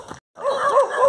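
Several dogs bark on a dark street during a night run, a short yip and then a loud, close run of rising and falling barks and whines.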